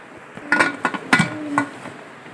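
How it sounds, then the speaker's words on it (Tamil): Metal lid set onto a pressure cooker pot of egg dum biryani, several sharp ringing clanks and taps in quick succession, close and fairly loud against a quiet kitchen. "இதுக்கு ஒரு மூடி போட்டு மூடிடலாம்."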